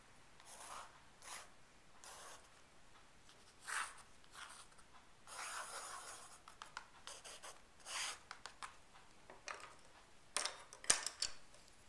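A pencil scratches and rubs on watercolor paper in short, irregular bursts, close and faint, with brief pauses between strokes.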